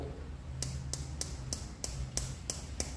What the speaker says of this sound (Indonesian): si Arai ini kita ketok pakai kuku